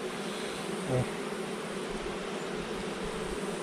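Honeybees hum in a soft, steady drone around an opened hive during a fall honey harvest, a faint continuous buzz with one brief louder pass near a second in, and no talking.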